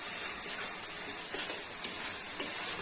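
Chili powder and spices sizzle steadily in a frying pan for a chicken curry, a constant bright hiss with a few soft stirring scrapes and small spatters, close and alone without voices.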